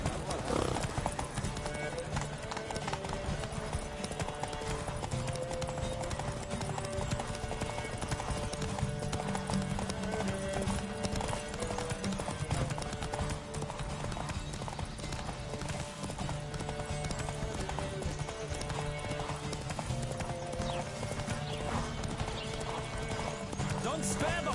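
Hooves of a racing horse in The Witcher 3 pound in a fast, continuous clip-clop gallop with occasional whinnies, heard close and loud over game music while voices talk.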